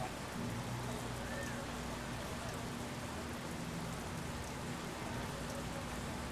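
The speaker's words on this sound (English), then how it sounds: "Check if you can hear the rain falling on stream" Steady rain falls in the video game Yakuza 2, a continuous dense hiss of drops that fills the whole stretch evenly and loudly, with no voices and no other sounds breaking through.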